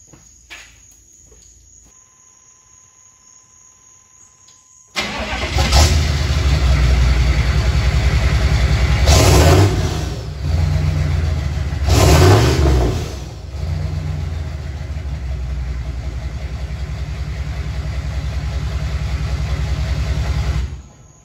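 After a quiet stretch, a 6.5 diesel truck engine fitted with smoke stacks fires up with a loud rumble, revs hard twice, then settles into a steady, heavy idle.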